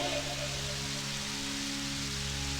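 Light drizzling rain as a sound effect, a steady even hiss of falling drops over a low constant hum, continuous and moderately loud, with no voices.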